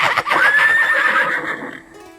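A horse lets out one loud, drawn-out whinny that rises, wavers and then fades over about two seconds, heard close with no talking.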